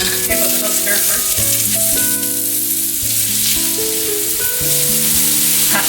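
Green oyster mushrooms and red pepper with soy sauce stir-frying for a tofu casserole: a loud, continuous sizzle with stirring under a steady musical backing.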